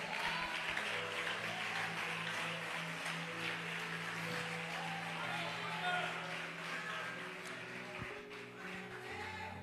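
A church congregation applauds in a worship service, giving a sustained wash of clapping mixed with voices and a low background tone, fairly distant and even throughout.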